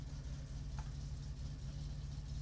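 A car engine idles steadily with a low, even rumble throughout, no talking, in the video game My Summer Car.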